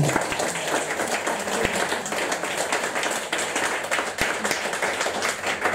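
An audience at a festival applauds Mia, a continuous wash of many hands clapping at even volume throughout, with a few sharper individual claps standing out.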